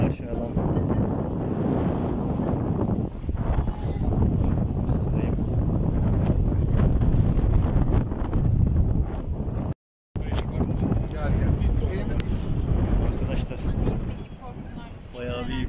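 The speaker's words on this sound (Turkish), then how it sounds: "Rüzgar çok fazla rüzgar var." Strong wind at Valla Canyon near Pınarbaşı, Kastamonu, Turkey, buffets the microphone in a loud, continuous roar, with a brief dropout partway through before the gusting resumes.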